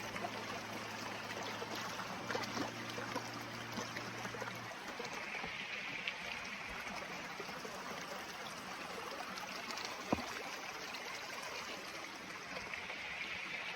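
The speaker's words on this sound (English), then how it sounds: "Time out, I'm gonna wash my shoes." Running water pours and trickles steadily on an Appalachian Trail thru-hike while shoes are rinsed in a stream, with a low hum early on and a sharp knock partway through.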